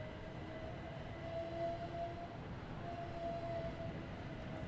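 A Jubilee class steam locomotive in Train Sim World 3 pulls in at a platform with a steady, fairly loud rolling rumble. A thin whistle-like tone sounds twice, briefly each time, over the noise.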